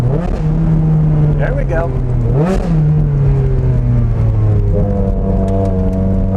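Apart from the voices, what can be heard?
Ferrari Challenge Stradale supercar engine revving loudly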